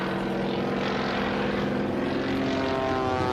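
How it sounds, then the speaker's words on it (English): A Waco propeller biplane flies low near a runway, close to a stall, its engine and propeller making a loud, steady droning roar with a slight rise in pitch, heard alone. "Jimmy Franklin came down in the Waco, just virtually on the edge of a stall"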